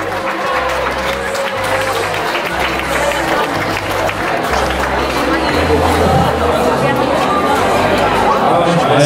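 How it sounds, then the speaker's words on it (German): An audience claps at a carnival dance show, steady applause and crowd murmur running throughout while someone speaks over it on a microphone. "Aber kann man auch mal ein bisschen klatschen"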